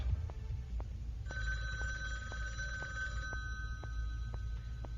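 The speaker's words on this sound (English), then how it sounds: "Master Stuntman Jack Edison picks up a ringing phone." A telephone bell rings in short repeated bursts, a clear electronic trill over a low ambient hum, fairly faint and with no voices.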